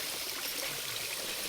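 A small hidden forest waterfall with weak flow, a steady soft hiss of falling water that stays even and distant throughout.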